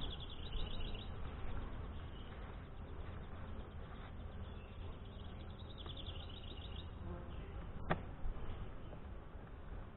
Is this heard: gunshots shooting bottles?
no